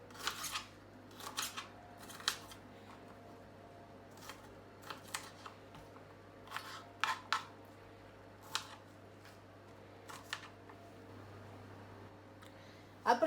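Vegetables are roughly cut up at close range for atiéké with oven-braised fish, producing a quiet, irregular series of sharp cutting clicks and snips spread over several seconds.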